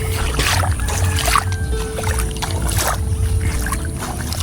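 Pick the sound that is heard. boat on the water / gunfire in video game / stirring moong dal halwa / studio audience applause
boat on the water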